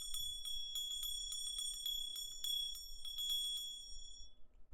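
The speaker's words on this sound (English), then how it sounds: "bell, sound bowls, singing bowls, whatever you can get your hands on, a free pineapple bell" A small pineapple-shaped bell is rung in quick, bright repeated jingles, bursts of clear metallic ringing with short pauses, close and alone in a quiet room.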